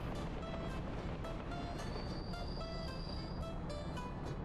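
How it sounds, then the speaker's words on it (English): A train pulls in during the city-building game Workers & Resources: Soviet Republic, a continuous low rumble of wheels and carriages with faint clicks and thin metallic squeals riding over it, moderately quiet and with no speech. "we've got a train full of workers"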